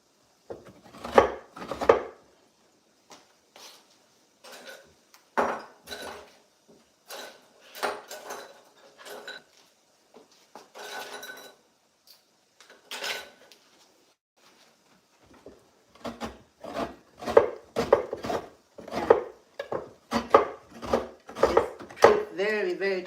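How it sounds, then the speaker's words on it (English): A coconut is grated by hand on a traditional seated grater, giving sharp scraping strokes in scattered bursts that turn into a quick, steady run near the end. "so I'm gonna grate this coconut in an ancient way"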